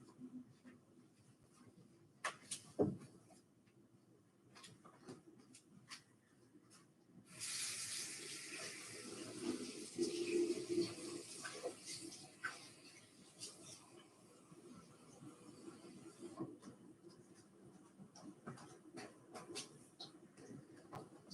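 Warm water runs from a kitchen tap for several seconds, a steady hiss and splash with brief clatter and handling noises before and after, close to the microphone.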